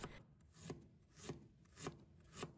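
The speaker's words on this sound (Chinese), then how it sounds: "再准备1块去皮的生姜，先给它切成薄片" A knife slices peeled fresh ginger into thin pieces on a cutting board, four evenly spaced, close rasping strokes, each ending in a soft thud.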